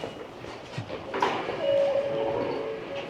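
A suspended monorail train in Japan glides past with a rising mechanical whir and a sustained whine, fairly close, steady after an initial clank.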